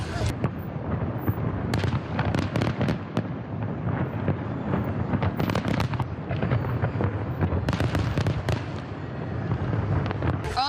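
Fireworks at an annual fireworks night display burst repeatedly in irregular volleys of sharp cracks and booms, some close and loud, over a continuous rumble.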